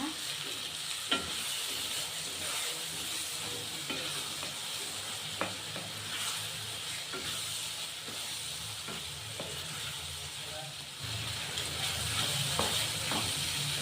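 Ground paste for bitter gourd gojju is stirred into a hot pan, giving a continuous close sizzle with soft scraping strokes from the spoon throughout, the frying hiss swelling slightly louder near the end.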